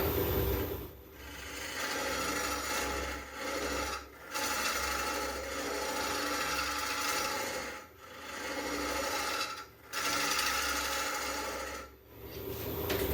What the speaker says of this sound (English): I'll run the lathe for a second here, clean out a little bit of this